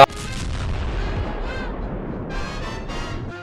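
Simulated crash of an American B-25 bomber into the Empire State Building in New York City: a sustained, loud rumbling roar with booming crackle that carries steadily throughout, with no voices over it.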